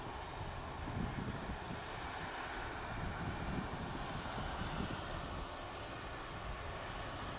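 A Norwegian airliner taxis out at Manchester Airport, its engines a steady, distant broadband roar that holds evenly throughout with no speech.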